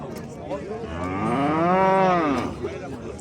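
A dairy cow at the Aral livestock market gives one long, close, rising-and-falling moo, with faint crowd noise around it.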